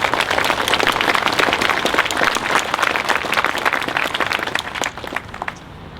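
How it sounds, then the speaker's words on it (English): A Veterans Day ceremony crowd breaks into sustained applause, many hands clapping densely and loudly before the clapping thins out and fades near the end. "I think we owe you a round of applause."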